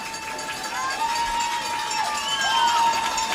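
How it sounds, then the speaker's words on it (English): A college football stadium crowd at a Cal game roars steadily in the background while a commentator talks over it, the noise swelling slightly toward the end. "the Cal crowd lets some noise come alive"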